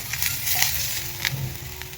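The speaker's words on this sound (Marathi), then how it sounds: "वाटण करण्यासाठी आपण आता कांदा भाजून घ्यायचा आहे" Chopped onion sizzles in a spoonful of oil in a pan, a steady close frying hiss with faint stirring scrapes, being roasted for a Maharashtrian masala paste.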